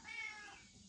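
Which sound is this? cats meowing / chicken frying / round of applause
cats meowing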